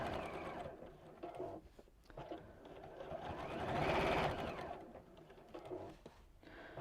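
A sewing machine stitching quietly indoors, its motor whirring in short runs that swell to a longer, louder burst in the middle before easing off.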